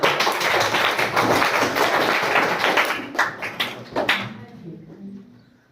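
Students in a classroom clap together in a loud, dense burst that thins into a few scattered claps before dying away.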